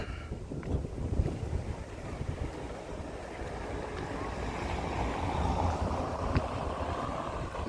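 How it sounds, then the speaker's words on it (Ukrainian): Ocean wind sweeps the beach at Lagoa de Albufeira in Portugal, a continuous rough roar buffeting the microphone, blended with the distant wash of surf and no voices. "Вже відчувається океанський вітерець."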